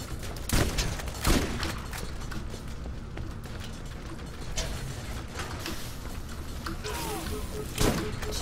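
Shotgun blasts in the Borderlands video game, a few sharp reports spaced out over continuous game noise and mechanical clatter, with a voice talking in between.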